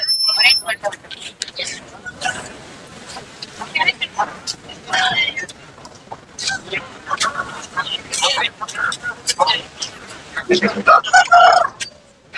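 A rooster crows amid a busy crowd at the Moonampalli rooster market, with chatter and background voices throughout; a few sharp bird calls stand out near the end.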